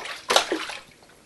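A brief burst of splashing water in a sink, one quick slosh and spatter that fades out within a second, close and fairly loud.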